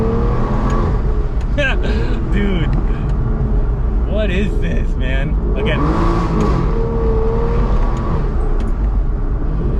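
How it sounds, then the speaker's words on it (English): An Aston Martin DB9 accelerates on neighborhood roads in Miami, its engine a steady, loud rumble that swells and eases, with someone talking over it. "I can drive it around within the neighborhood and do a little acceleration"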